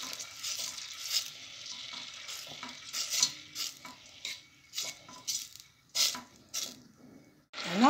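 Butter melting in a pan as the base for a béchamel sauce, heard as a soft, close sizzle with scattered utensil scrapes and stirring clinks, no talk.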